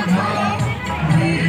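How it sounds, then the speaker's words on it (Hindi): Dense crowd noise at an outdoor fair, a continuous close babble of many voices with some shouting, loud and busy throughout. "भयंकर भीड़ है"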